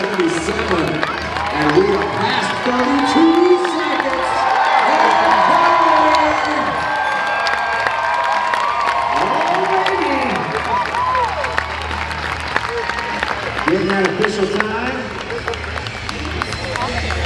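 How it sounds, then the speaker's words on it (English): A crowd at a record-breaking running event cheers and claps continuously as a new world record is set, with shouts and whoops rising and falling over the applause and an announcer's voice heard through it. "Let's cheer on."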